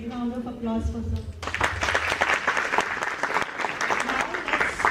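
Applause from a conference audience breaks out after a brief spoken line and continues as a loud, dense clapping that holds steady to the end.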